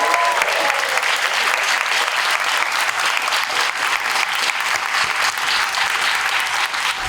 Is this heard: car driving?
no